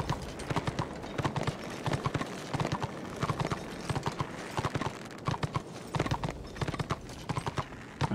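Horse hooves clip-clop in the Warhammer Online video game, a steady run of sharp rhythmic hoofbeats over a continuous background bed for the whole stretch.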